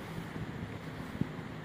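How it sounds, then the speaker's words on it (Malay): Strong wind gusting beneath a very high bridge in Malaysia, a steady, loud rushing buffet against the microphone with a brief thump near the end. "Angin pun agak kuat dekat bawah ni."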